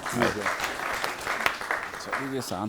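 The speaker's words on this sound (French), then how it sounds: "Applaudissez." Audience applause rises at a television special recorded in Mali, steady clapping running under voices that talk over it throughout.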